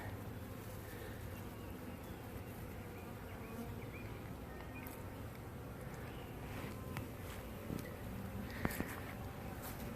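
Honeybees in a shed hive hum in a steady, dense drone that fills the whole stretch, close and even, with a few faint knocks near the end and no voices.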